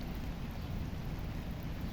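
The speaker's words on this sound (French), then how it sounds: "là il pleut." Steady rain falls outside as a dense, even hiss of drops, constant and moderately loud for the whole stretch, with no voices.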